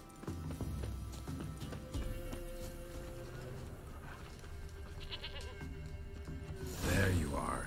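A goat bleats in The Witcher 3 video game, with drawn-out wavering calls near the start, a noisier bleat near the end, and a voice speaking in between over a continuous ambient bed.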